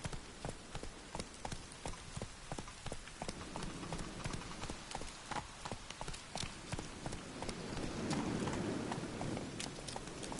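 Shadowmere the horse gallops in The Witcher 3, a steady rapid clip-clop of hooves running without a break, fairly close and even in loudness.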